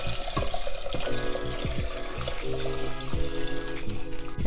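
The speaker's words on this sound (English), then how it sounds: "I'm gonna get my liquid poured in," Beef broth pours into a pan for Salisbury steak gravy, making a steady, continuous splashing gush that runs the whole time, close by, with faint tonal sounds in the background.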